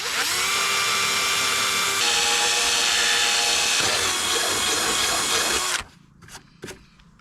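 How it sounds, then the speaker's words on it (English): A power drill whines steadily and loudly for several seconds drilling a hole to fit a side skirt on a Nissan 300ZX Twin Turbo, then cuts off, leaving a few faint knocks and clatters. "drill the hole"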